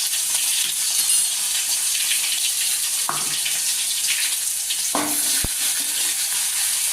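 Garlic and tomato fry in a pan over a lowered flame, giving a steady loud sizzle throughout with a few clinks and stirring scrapes from a utensil against the pan.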